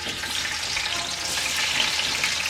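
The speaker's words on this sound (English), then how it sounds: "the first step is to make sure you brown some garnishing onions" Onions browning in a hot pan as garnish for pilau, a continuous bright sizzle and crackle of frying heard close up, growing slightly louder with no talking.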